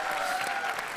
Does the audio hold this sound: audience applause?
yes